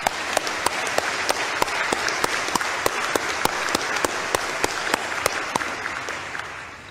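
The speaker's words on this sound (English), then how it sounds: "I want to give her an applause to Mrs. Kennedy for what she said." A church congregation applauds together in a steady, continuous wash of clapping, with a few sharp individual claps standing out, sustained for several seconds with no talking.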